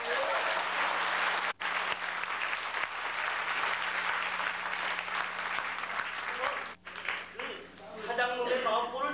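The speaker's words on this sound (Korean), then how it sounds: "박수로 신나게 잘 시작을" A group claps together to open a lunchtime singalong gathering, a steady dense wash of applause lasting several seconds with brief dips, then fading as voices begin talking near the end.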